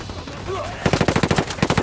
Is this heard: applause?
no